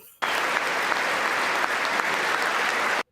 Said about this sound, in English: he's already interrupted with applause